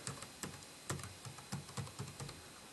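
Fingers typing on the small, low-profile keyboard of an ASUS Transformer Book T100 tablet, giving a steady run of close, light plastic key clicks with uneven rhythm and no talking.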